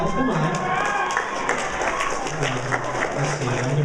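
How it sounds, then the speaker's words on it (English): A convention audience at an anime game show applauds with steady clapping and scattered cheers, while a host keeps talking over the noise throughout. "guys, let's give a round of applause."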